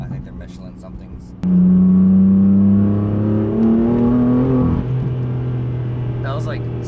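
A tuned 600-horsepower BMW M4 running on E85 accelerates hard in third gear at about 70% throttle, its loud exhaust note rising steadily after a sudden start, with talk before and after.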